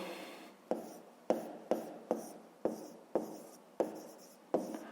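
Pen strokes scratch out an inequality by hand during a fifth-grade maths lesson, a series of about eight short, quiet, close scraping strokes in an uneven rhythm, each starting with a tap.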